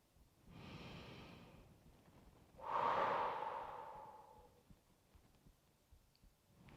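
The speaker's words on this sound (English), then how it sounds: "Let's try one more of those breaths." A person takes a slow, deep breath during a yoga exercise: a soft inhale followed by a louder, drawn-out exhale that fades, heard close in a quiet room.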